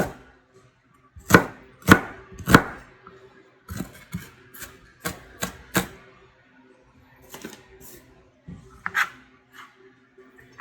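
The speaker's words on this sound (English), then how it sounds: "I'm going to slice vertically down through the onion" A very sharp knife slices vertically down through an onion on a cutting board. Crisp knocks sound close and clear, first in a quick run of three, then in looser irregular strokes with quiet gaps between them.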